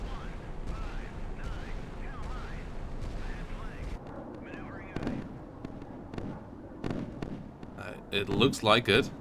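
Warships firing flak in the naval combat game Sea Power, a continuous rumbling roar of distant gunfire with sharper bursts and pops building toward the end, under a voice talking.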